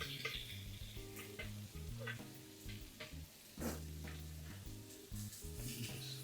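Cabbage frying in a pan over medium heat gives a quiet sizzle with scattered crackles and clatters, set against steady background music, faint and close, no voices.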